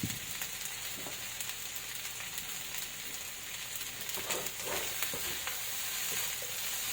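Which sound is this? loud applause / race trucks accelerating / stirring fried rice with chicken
stirring fried rice with chicken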